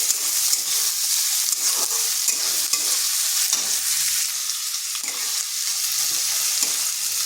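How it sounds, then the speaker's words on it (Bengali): Chopped onion and green chilli fry lightly in a pan with a steady, close sizzle, broken by the repeated scrape and clatter of stirring. "পেঁয়াজটাও কিন্তু খুব বেশি ভাজবো নি, হালকা একটু লালচে হয়ে আসবে।"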